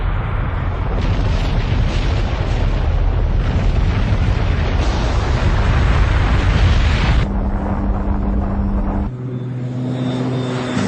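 A hydrogen bomb test explosion: a loud, sustained roaring rumble that holds steady for several seconds, then thins into a lower, hum-like drone near the end, with no voices.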